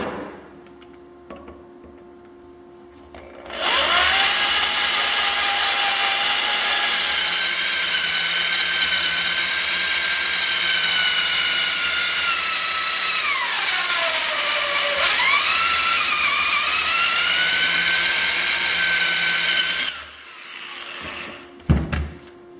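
Drill biting into the bearing ring on a Dana D44/D35 axle shaft of a Jeep WJ, one continuous loud high whine lasting about sixteen seconds, its pitch sagging and recovering under load, close up, then stopping with a few clunks.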